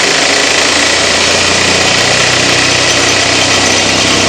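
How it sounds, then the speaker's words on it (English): A power tool spins while sanding a homemade Qui-Gon lightsaber part, a loud steady motor whine with gritty abrasive noise, held at constant speed throughout. "so I'm going to start sanding it."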